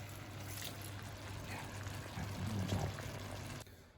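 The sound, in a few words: white wine poured into a cooking pan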